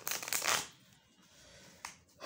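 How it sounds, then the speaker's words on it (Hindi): Tarot cards being shuffled by hand, a close riffling burst at the start, then quiet, then two shorter shuffles toward the end. "कार्ड्स ऑलरेडी शफल थे, लेकिन मैं आपकी तसल्ली के लिए दोबारा से कार्ड शफल कर लेती हूँ।"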